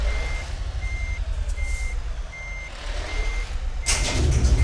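A Volvo truck reverses in Euro Truck Simulator, sounding a steady series of evenly spaced electronic beeps over a low idling engine rumble, ending with a sudden hiss of air brakes and rising engine noise.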